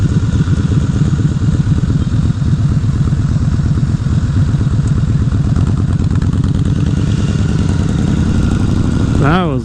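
A Honda CBR 1000 Repsol motorcycle engine runs loud and close with a steady pulsing rumble, revving up sharply just before the end.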